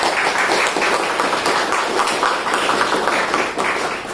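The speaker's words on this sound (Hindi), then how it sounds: "तालियां तो बजनी चाहिए।" Audience at a Rakshabandhan celebration with a Lions club gathering clapping together, a dense, continuous round of applause from a roomful of people, fairly loud and even throughout.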